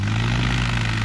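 A light aircraft's propeller engine idles steadily while taxiing out to the runway at an airfield hosting a mass glider and airplane takeoff, a loud, close, constant drone with a strong low hum.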